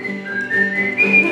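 Someone whistles a tune along with a folk song about whistling at Sutter's Fort, a steady, clear melody held close and alone, with no talk over it.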